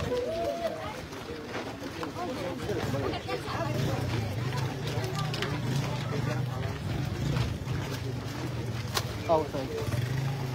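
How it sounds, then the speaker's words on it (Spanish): A motorcycle engine hums steadily as it moves slowly through a dense, chattering crowd at a funeral procession in Guatemala. Voices and babble surround it throughout. "Aguas ahí la moto, aguas la moto."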